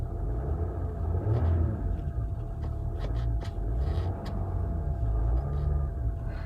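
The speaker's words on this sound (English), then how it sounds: "Now when I rev it up, you can't even hear it." A Land Rover Discovery 4 with the 3.0 TDV6 diesel engine being revved while cold, heard from the quiet cabin as a muffled low rumble that swells and settles, with faint clicks over it and no talking.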